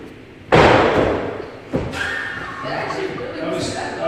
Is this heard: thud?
yes